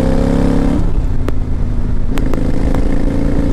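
A 2005 Kawasaki Vulcan 800 Classic, an 800cc cruiser motorcycle, drones loudly on a test ride, its steady engine hum dipping briefly as it shifts before settling back to a constant throb.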